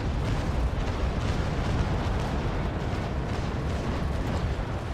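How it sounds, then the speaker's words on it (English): Frigate cannon broadsides in the naval game Naval Action: a dense, continuous roar of booming fire that stays loud and rumbling throughout, with no voices heard. "Managed to fire with both broadsides."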